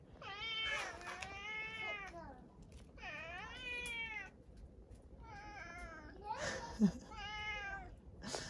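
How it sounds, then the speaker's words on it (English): Hungry cats meow close by in a run of four long, wavering, drawn-out meows with short pauses between, some overlapping into plaintive cries. "I'm surrounded by hungry cats."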